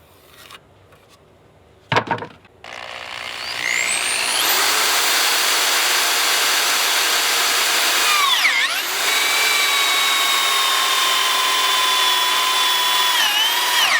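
A power drill bores a dowel hole through a wood plank, starting after a few brief knocks and then holding a loud, steady whine near the mic with a short dip in pitch partway through.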